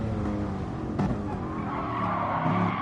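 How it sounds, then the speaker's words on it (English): Rear tyres of a Gr3 race car squeal and skid as the back end steps out on the Nürburgring GP circuit in Gran Turismo, a loud engine drone running throughout with a sharp skid burst around the middle. "Just getting those tyres warmed up by losing the rear end."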